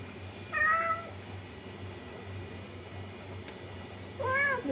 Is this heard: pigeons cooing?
no